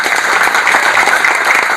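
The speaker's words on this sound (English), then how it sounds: "Let's clap for ourselves." Audience applause at a human resources and leadership session, a dense steady patter of many hands clapping together, loud and close with no voices over it.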